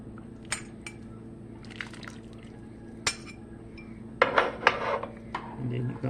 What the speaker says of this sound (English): And then you're going to stir that around in there.